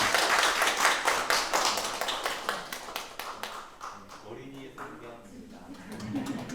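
A church congregation claps in celebration of an infant baptism during a Sunday service, with dense, lively applause that thins out and fades after a few seconds, followed by room murmur and a voice.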